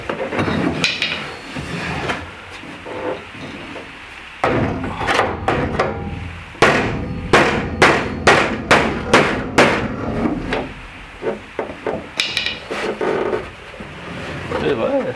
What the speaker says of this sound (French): Bon, on va reprendre le marteau.